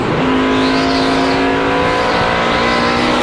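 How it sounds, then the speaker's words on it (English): A NASCAR stock car engine screams at high revs during a 2004 race as the driver works the throttle, a loud, sustained, closely heard roar whose pitch rises and dips slightly with throttle changes, with no talking over it. "Listening to how they work the throttle, I think that tells you a lot about how a guy's car is driving."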